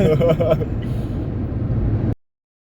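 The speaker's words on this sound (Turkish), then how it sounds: "Bir arabanın motor sesi, bir de siz baş başasınız" A Volkswagen Polo engine hums steadily from inside the moving car on a long highway trip, with road rumble throughout and a voice talking over it before it cuts off.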